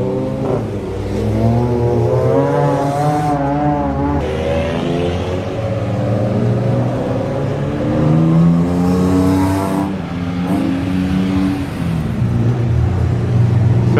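Race cars on a wet circuit during qualifying, loud engines revving and droning continuously as cars pull away, with rising and falling pitch as they accelerate and pass close by.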